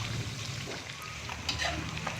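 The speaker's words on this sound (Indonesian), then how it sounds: "kalau goreng paru itu kadang minyaknya suka keluar buihnya itu banyak ya" Beef lung frying in oil with plenty of spices, giving a steady, dense sizzle with faint stirring scrapes throughout, close and continuous with no talking.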